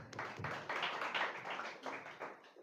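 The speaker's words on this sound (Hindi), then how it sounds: "ठीक है, ताली बजा लेते हैं।" A small group claps hands together in a classroom-style Bible lesson, a burst of several overlapping, uneven claps lasting a couple of seconds at moderate loudness.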